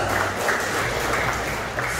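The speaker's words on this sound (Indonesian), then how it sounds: "Berikan tepuk tangan kepada Tuhan." A church congregation claps in praise during a worship service, a continuous wash of applause filling the room at even loudness for the whole stretch.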